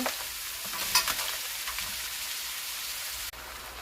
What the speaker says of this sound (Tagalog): Magigisa po muna tayo ng sibuyas, garlic, tomato.